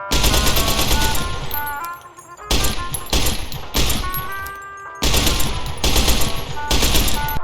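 Gunfire in Fallout New Vegas with switchable fire modes comes as loud, close bursts of rapid automatic shots, split by short pauses, with ringing metallic tones over the shots.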